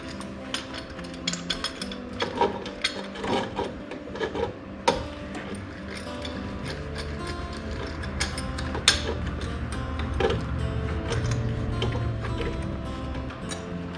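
A C-clamp pushes back the upper piston of a Subaru front brake caliper, producing intermittent creaks, clicks and scraping metal rubs over a steady low hum. The sounds are close and moderately loud, with no talk.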